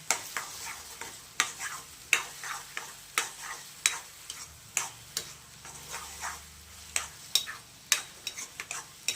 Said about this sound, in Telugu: సో ఇప్పుడు ఇది నెయ్యిలో బాగా వేగనిచ్చుకోవాలన్నమాట.